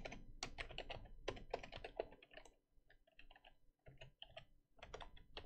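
Quick clattering keystrokes on a computer keyboard, close and fairly faint, in uneven bursts with short pauses, no voices present.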